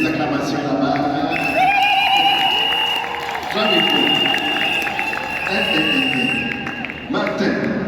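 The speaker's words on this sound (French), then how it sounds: "Les acclamations là-bas." Wedding guests cheer and applaud in a lively, loud crowd, with whoops, whistles and sustained clapping layered under voices and ringing high tones throughout.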